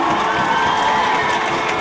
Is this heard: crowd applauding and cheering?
yes